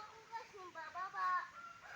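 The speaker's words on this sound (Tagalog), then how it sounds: "Ayan yung mga manok naming native" Native farm chickens cluck and chatter in a series of short, nasal calls, fairly close, with a bit of background voice activity.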